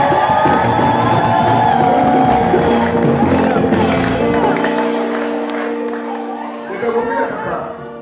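A worship crowd cheers, whoops and claps loudly under a forceful preacher's voice, and the noise gradually fades toward the end.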